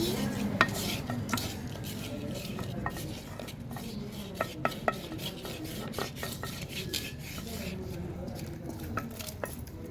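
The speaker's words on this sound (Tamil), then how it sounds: "நல்லா கிண்டி சிக்கன் வாசனைலாம் வந்துட்டு இருக்கு." Chicken with cinnamon being stirred in a pan, a steady scraping and rubbing of a spoon against metal with occasional sharp clinks, faint sizzling underneath, close and continuous.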